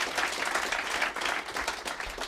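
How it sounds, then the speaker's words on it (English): Studio audience applause for a singer-songwriter's new record, a steady, dense patter of many hands clapping with no break, fairly close and even in level. "You should applaud that."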